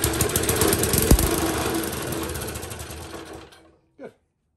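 An old Tecumseh small engine runs at full throttle, a loud steady buzzing drone with a sharp knock near the one-second mark, then cuts out abruptly, followed by a short faint clunk.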